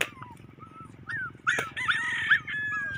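A small abandoned puppy whimpers and yips in high, thin cries, close to the microphone, with several whines in quick succession over a low background hum.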